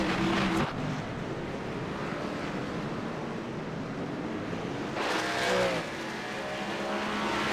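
Several stock cars wreck together on the backstretch during a 400-mile oval race: a loud, continuous roar of engines and tire noise close by, with harsher bursts at the start and again near the end.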